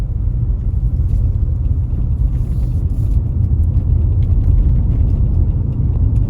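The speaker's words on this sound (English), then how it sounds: "All of this traffic here." Road traffic in Montego Bay after Hurricane Melissa makes a loud, continuous low rumble of car engines and tyres, steady and close, with no talking.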